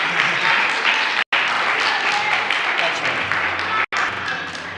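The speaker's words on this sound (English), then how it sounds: "we typically don't applaud in the sanctuary, but that's okay, because it came from a very good place" An audience in a temple sanctuary applauds, a loud dense wash of clapping with faint crowd murmur, briefly cut out twice.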